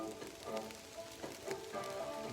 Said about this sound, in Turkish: ormana varır varmaz yağmur başladı.